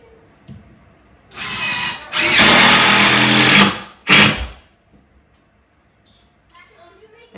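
A hammer drill with a star bit drives screws into wall studs indoors, three separate bursts of high whirring power, the middle one longest, with a person talking briefly between them.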